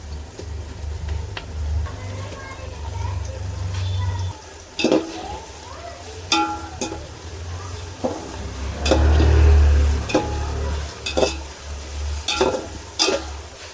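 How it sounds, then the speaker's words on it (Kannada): Onions fry with mint and coriander in a pan for chicken biryani, a steady sizzle broken by scattered clinks and scrapes of a spoon stirring against the metal, with a low hum underneath. "ಈರುಳ್ಳಿ ಕೆಂಪಗಾಗೋ ತನಕ ಫ್ರೈ ಮಾಡ್ಕೊಳ್ಳೋಣ ನಾವು"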